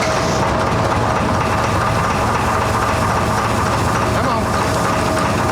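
An XLCH chopper motorcycle engine runs rough and misfires, not firing on all cylinders, a steady loud clattering drone in a shop with a blast fan going, and someone briefly speaks over it.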